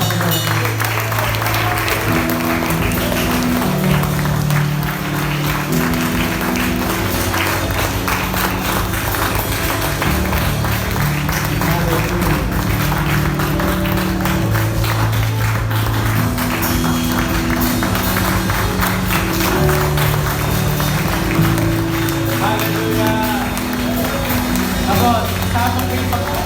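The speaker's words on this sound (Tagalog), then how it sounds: "Palakpak sa Panginoon." A congregation claps along during a Filipino church worship service in Hagonoy, with rhythmic hand claps blended into loud, continuous music and a voice running beneath it.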